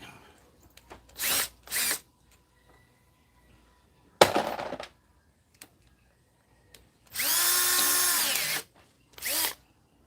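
A power drill with a bit whirs in several short bursts during a field repair of an Echo leaf blower's muffler shroud, one longer run with its pitch winding down, a sharp clatter between bursts.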